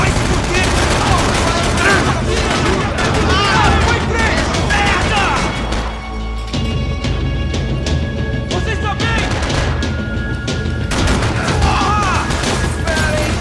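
Sustained, loud shooting in Max Payne 3, with dense bursts of gunfire and crashes that barely let up, mixed with game sound and some voices.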